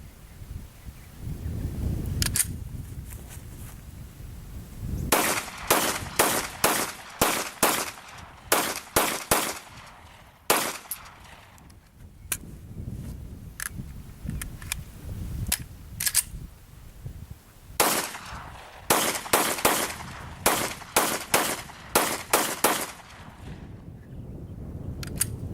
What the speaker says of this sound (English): So we're gonna rapid fire with the Glock 30 here, using hollow point ammo